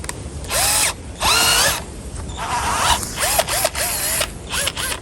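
A cordless power drill with a bit fitted runs in loud bursts, its motor whining up and down in pitch between short pauses, used outdoors while fixing down a base against the wind.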